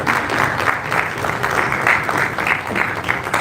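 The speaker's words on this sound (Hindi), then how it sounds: "ताली बजती रहनी चाहिए" Sustained audience applause at a state-level conference of Panchgavya practitioners in Chhattisgarh, dense and steady throughout with no talk over it.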